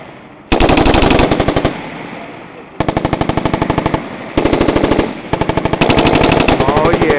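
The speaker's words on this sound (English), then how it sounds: "Automatic weapons, that works." Squad automatic weapons fire at night in several loud, rapid bursts of evenly spaced shots, each lasting about a second, separated by brief pauses.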